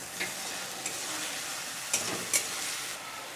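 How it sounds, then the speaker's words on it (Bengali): Spice paste with slit green chillies frying in oil for a Bengali bata fish curry with raw banana and potato, giving a steady close sizzle broken by a few sharp stirring scrapes, with no talk. "তেল ছাড়া অবধি মশলাটা ভালো মতো করে কষিয়ে নেবো তার মধ্যে কটা কাঁচা লঙ্কা চিরা দিয়ে দিচ্ছি"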